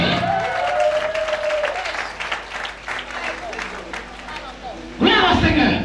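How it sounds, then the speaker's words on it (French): A church congregation applauding and cheering during a worship service, with a dense wash of clapping and voices, a speaker calling out over the crowd, then a sharp surge of louder applause near the end. "est-ce qu'on peut acclamer?"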